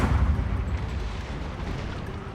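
Cannon artillery fire booms in a Fall of the Samurai battle at Hakodate, a dense continuous rumble of blasts and explosions with no talk over it.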